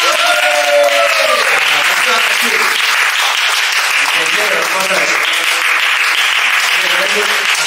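An audience in a community loft space applauds, dense loud clapping sustained for several seconds, with a voice speaking over it near the start.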